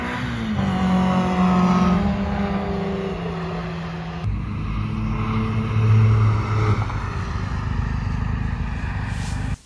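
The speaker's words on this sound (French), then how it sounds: "C'est l'occasion du coup de voir quelques voitures en piste." Cars lap a race circuit at a track day at Circuit CEERTA in Issoire, engines droning and revving loudly with shifting pitch as they pass close by, one following another with no break.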